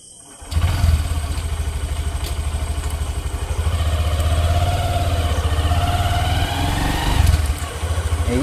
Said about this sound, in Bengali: এইবার আমি তোমাদের গাড়িটা চালিয়ে দেখাবো যে অন রোড প্রেজেন্ট কীরকম আছে